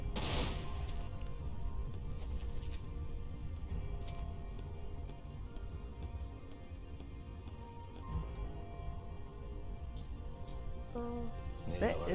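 Sniper gunfire in the video game Dirge of Cerberus, sharp cracks scattered through a busy background of game noise, with a loud shot at the start and several sharp reports near the end, and no talk.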